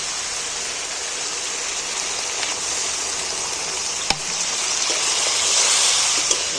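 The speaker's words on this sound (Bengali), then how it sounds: "এইবার আমি জল দিয়ে দিচ্ছি পরিমাণ মতন" Water pours into a simmering cauliflower curry over fried spice gravy, a continuous close rushing hiss with a single sharp clink partway through.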